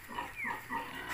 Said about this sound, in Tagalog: Ito pakinig nyo naman ang ugok ni Arya